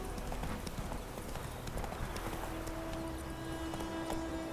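Roach the horse galloping in The Witcher 3: Wild Hunt on Nintendo Switch, rapid rhythmic hoofbeats pounding steadily and close, with faint game ambience underneath.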